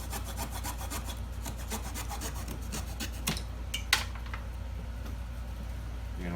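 A small piece of wood is sawn by hand to fill a stripped door hinge screw hole, a close, rapid, rhythmic rasping of back-and-forth strokes that ends with a couple of sharp knocks.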